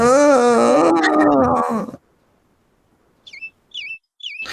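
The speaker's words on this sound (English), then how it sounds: "Oh my God, this bird all day. Just chirp, chirp, chirping." A bird chirps outside in three short, sharp repeated calls after a stretch of near silence, following a loud, drawn-out groaning voice.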